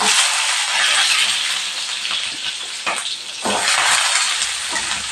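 Chopped onions hit hot oil in a home kitchen pan and sizzle loudly and steadily, the frying hiss swelling and dipping with a brief stir partway through, no talking.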